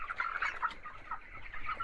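Soft, close clucking from chickens in a poultry farm, a few quick repeated calls in short bursts over a quiet background.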